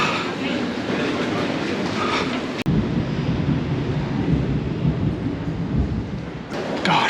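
A London Underground Northern Line train rumbles at Charing Cross station, a loud continuous roar with a sharp click partway through and crowd noise around it.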